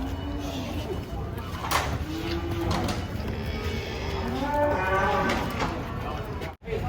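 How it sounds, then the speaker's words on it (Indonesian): A huge, aggressive breeding bull is unloaded from a truck among cattle, low drawn-out moos sounding repeatedly over crowd noise and handlers' voices. "Wah, kedatangan sapi galak guys."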